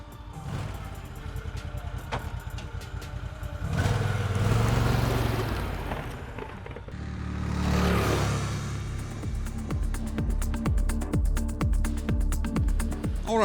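A Sharmax SHP-880 snowmobile rides across snow, its engine droning steadily and surging louder in two revving swells before settling into a continuous motor hum, with no talk.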